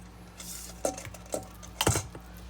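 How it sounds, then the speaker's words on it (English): A spatula scrapes zucchini bread batter from a mixing bowl into a loaf pan, giving three soft scraping and clinking strokes against the bowl, near and fairly quiet, with no talking. "So you scrape that bowl nice and clean."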